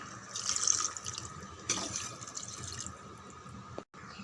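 Water runs and splashes steadily into a cooking pot for a few seconds, with small clinks and drips, then briefly stops.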